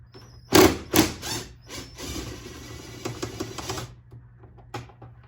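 Airbox screws come out of a 2019 Lincoln Nautilus under the hood, heard as close clicking, rattling tool and fastener sounds with a couple of sharp knocks at the start, steady over a low background hum.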